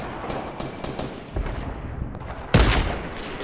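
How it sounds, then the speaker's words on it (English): Gunfire in a Fortnite duos match on the Scorched Earth mode, with rumbling distant shots under game noise and one loud, close blast near the end. "Getting shot."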